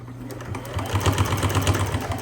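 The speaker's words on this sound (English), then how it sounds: "Now I'm going to back stitch." A sewing machine back stitching a small fabric earbud pouch, a close rapid mechanical chatter running steadily and getting slightly louder partway through.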